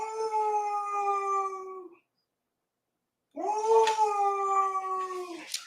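A dog howls in two long, drawn-out bursts with a wavering tone, a short silent gap between them, close and fairly loud, with no talk over it.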